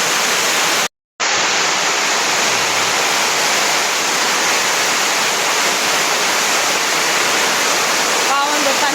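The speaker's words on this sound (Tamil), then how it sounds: "அதுக்கே எவ்வளோ மழை" Heavy rain pours down steadily in a dense, loud, continuous roar of falling water, broken only by a brief moment of silence near the start.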